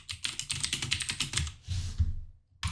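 Fast, close computer keyboard typing with a quick run of crisp key clicks, then a brief softer stretch, a pause and one final keystroke, loud and clear with no voices.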